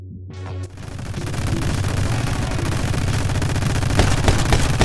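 Rapid bursts of gunfire from a larger gun in the video game My Friend Pedro, a dense, sustained rattle that starts abruptly after a brief quiet moment and keeps going loud to the end.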